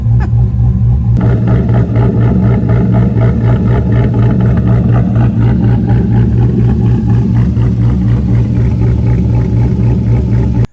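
A Corvette C5 V8 fitted with a BTR stage 2 cam idles close by, loud and rumbling with a steady, choppy lope that keeps pulsing evenly for the whole stretch.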